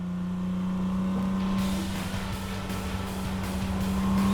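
Porsche cars, among them a retro-modified early 911 Outlaw, drive past on the road at a Queensland Porsche show, their engines a steady, loud, continuous drone alone for about four seconds.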